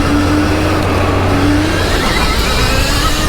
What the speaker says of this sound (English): Mini Porsche! With the Stark powertrain!